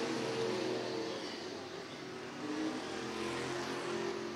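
Street stock race cars roar around the dirt oval at Bubba Raceway Park, a dense, continuous engine drone from several cars at a distance, swelling and fading slightly as they pass.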